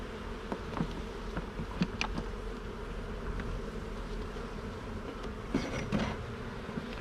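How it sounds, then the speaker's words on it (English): A steady, dense buzz of many bees fills the whole stretch, close and continuous, with a few sharper clicks and knocks now and then. "I'm really stimulating these bees."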